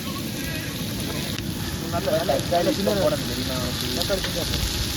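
Sliced onions frying in oil for a Tamil Nadu style fish biryani, a steady close sizzle with crackles, while a person talks over it.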